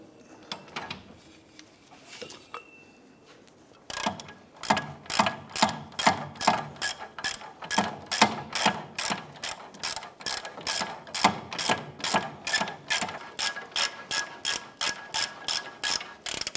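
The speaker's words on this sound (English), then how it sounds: "I'm able to use a 17mm socket, our swivel, along with our ratchet. Let's go ahead and break that bolt free." A ratchet fitted with a 17mm socket and swivel works a bolt loose on a 2009-2015 Honda Pilot rear hub, giving a long run of rhythmic, close, loud clicking strokes after a quieter start.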